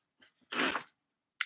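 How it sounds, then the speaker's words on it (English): A single close, explosive sneeze preceded by a couple of short sharp inhales, followed by a brief sniff. "And I'm about to sneeze."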